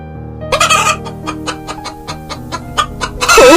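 A cartoon chicken clucking, a loud, close run of quick rhythmic clucks and squawks over a faint musical background, ending in a burst of louder squawking.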